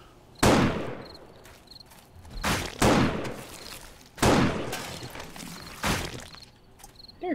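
Shotgun blasts in the video game 7 Days to Die: four loud, sharp booms spaced a second or two apart, each trailing into a decaying rumble, with faint small beeps between them.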